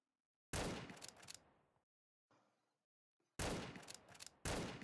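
A Henry rifle fires in a video game, three loud cracks each trailing into a short rumbling echo, with brief gaps of near silence and a quieter rustle between shots.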